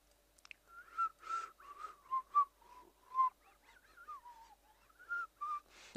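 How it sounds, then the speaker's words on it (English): A person attempts to whistle, producing a series of short, breathy, wavering whistle notes with unsteady pitch, close to the microphone and with no talking. "I can't whistle."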